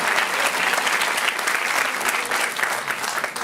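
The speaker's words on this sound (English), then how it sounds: "let's give him a round of applause and see the score." Studio audience applauding a contestant on a food-themed game show, a steady, dense wash of clapping sustained at even loudness throughout.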